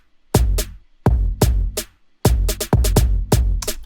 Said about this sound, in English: we have simple drums with just like two claps and a kick